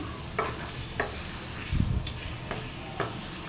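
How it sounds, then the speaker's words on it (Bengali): Onion paste and ginger-garlic paste frying in a pan while being stirred, a soft sizzle under a series of spaced spatula scrapes and one louder clattering stir, close by and without talk. "দিয়ে ভালো করে একেবারে কষিয়ে কষিয়ে রান্নাটা করব তার জন্যই ভালো করে একেবারে নাড়াচাড়া করছি বেশ কষাচ্ছি"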